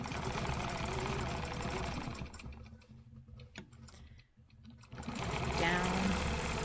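A sewing machine stitching a stencil pattern on a quilt, rapid steady mechanical whirring that pauses for a few seconds with faint clicks, then resumes at full speed, heard up close.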